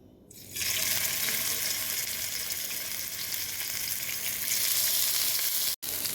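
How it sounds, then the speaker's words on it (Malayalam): Sardines with green chilli fry in coconut oil in a frying pan, a loud, dense sizzle that bursts in suddenly and holds steady for several seconds, then cuts off abruptly near the end. "അങ്ങനെ നമ്മുടെ ഗ്രീൻ ചില്ലി മത്തി ഫ്രൈ ചെയ്തുകൊണ്ടിരിക്കുകയാണേ."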